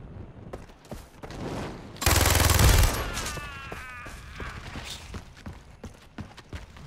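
Video game gunfire: a dense, loud burst of automatic fire lasting about a second, followed by scattered lighter clicks and shots with a faint electronic warble, and a voice talking under the action.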